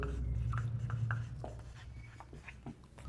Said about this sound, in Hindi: चलिए लिख लेता हूं, मैं यहाँ पर लिखता हूँ